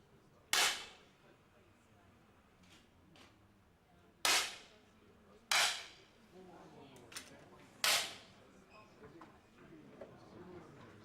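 Five sharp 10 m air pistol shots crack at irregular intervals during a women's World Cup final in Munich, each a brief crisp snap over quiet hall ambience and faint talk.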